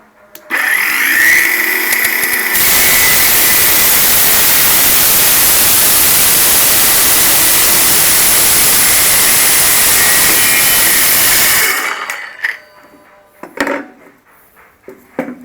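A Keelat circular saw rips through a 4 cm thick wooden board, a loud, steady high-pitched whine lasting about ten seconds after spin-up, then cutting off into quiet handling clatter and light knocks.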